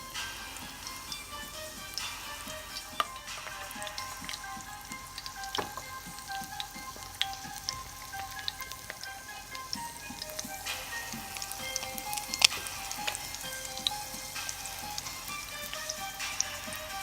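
Coconut shrimp frying in grapeseed oil, a continuous crackling sizzle with scattered sharp pops and spits, moderately close and even throughout.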